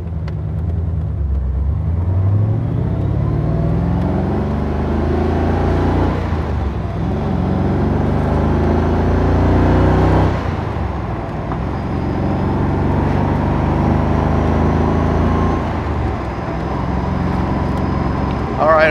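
A 1999 Shelby Series 1 drives off in first gear and accelerates, its engine a loud, close rumble that rises and falls through gear changes, with a person talking over it.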